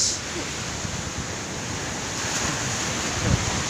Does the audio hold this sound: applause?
no